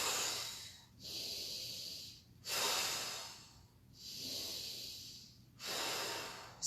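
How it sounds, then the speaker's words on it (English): Forceful bellows breathing, three strong exhales blown out through the lips, each a long loud rushing hiss alternating with quieter inhales, close and alone with no talk. "let's do 5 big, strong bellows breath. Blow out with your lips."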